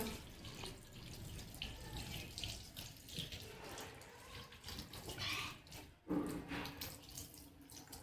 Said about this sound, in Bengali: ভালো করে দাঁত মেজে মুখ ধুয়ে নাও